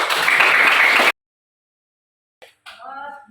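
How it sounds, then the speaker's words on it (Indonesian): Classroom applause for a student group that has just finished a presentation: a dense, steady burst of clapping for about a second, then a pause before brief talking. "tepuk tangan untuk kelompok 1"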